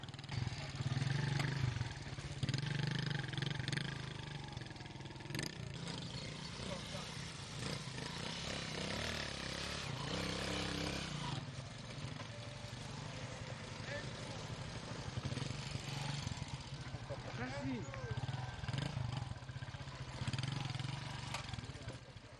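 A motorcycle labors over a rough, potholed dirt road with steep slopes, its engine droning steadily with clatter and jolts throughout, close to the rider, with a voice speaking over it.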